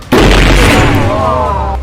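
A homemade firecracker bomb goes off during Diwali in Bhopal, giving one loud, close blast that rolls into a long rumbling decay lasting well over a second.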